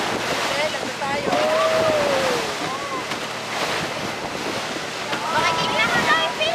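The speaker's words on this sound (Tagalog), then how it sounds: "Kahit ang lakas pa ng alon." Strong sea waves wash and slap around a small boat on a stormy crossing to Masbate in the Philippines, a steady rushing surge mixed with wind buffeting the microphone, while voices talk and call over it.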